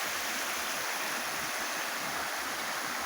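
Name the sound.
São José river flowing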